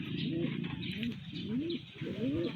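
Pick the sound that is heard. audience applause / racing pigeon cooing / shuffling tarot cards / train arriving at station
racing pigeon cooing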